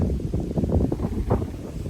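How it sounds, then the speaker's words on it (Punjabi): Steady wind gusting against the microphone, a low rumbling rush with rising and falling buffets and no voices, outdoors at a farm water pump. "ਦੇਖੋ ਕਿਹੜੇ ਸਾਹਮਣੇ ਹਵਾ ਚੱਲਦੀ"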